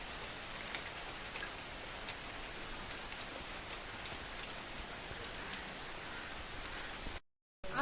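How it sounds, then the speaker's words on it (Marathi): Steady, dense rainfall in a Konkan village, pattering evenly on surfaces close by with no voices, cutting out briefly near the end. "बघा, पाऊस सुरू झालेला आहे."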